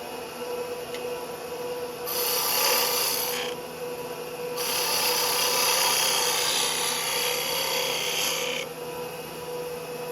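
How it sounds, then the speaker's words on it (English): A spindle gouge cuts wood on a lathe while turning a finial lidded box, giving a steady close rasping, scraping hiss over the lathe's continuous motor hum, with stronger cutting passes in a few stretches. "So I'm now going to just use the spindle gouge, start to get the shape I want up top."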